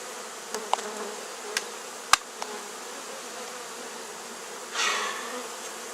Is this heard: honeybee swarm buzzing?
yes